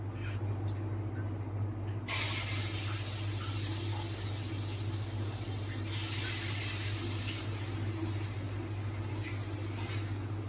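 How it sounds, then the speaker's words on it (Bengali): Batter for soft gola ruti hits a flat griddle with a little hot oil, and a sudden loud sizzling hiss starts and holds steadily, swelling briefly partway through. "তেলটাকে ভালো করে গরম করে নিয়ে এখানে আমি ব্যাটারটা দিয়ে দেব"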